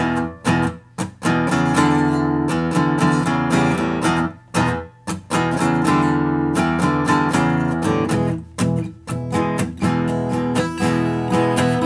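Strummed acoustic guitar chords from an acoustic arrangement of a song ring out in a steady progression, close and full, with short pauses between some strums and no voices.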